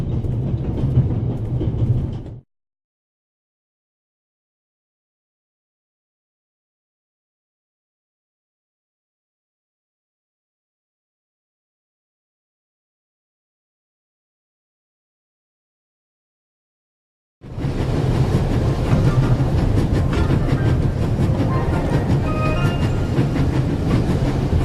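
Train rocking along in the video game The Raven: a steady rumbling carriage with rhythmic wheel clatter, heard briefly, then a long stretch of silence, then the same train sound again, close and fairly loud.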